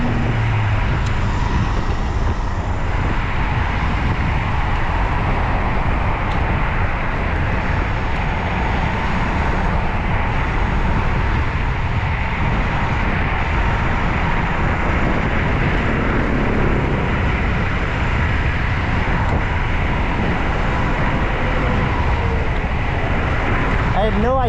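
Steady roar of highway traffic running alongside a trail, continuous and fairly loud from start to finish, with a low rumble and broad hiss and no clear breaks between passing vehicles.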